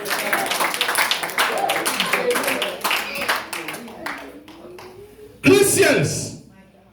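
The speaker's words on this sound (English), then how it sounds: "Clap your hands and give him praise." A church congregation claps their hands in a steady, fairly loud rhythm, then the clapping thins and fades out while a voice speaks over it throughout.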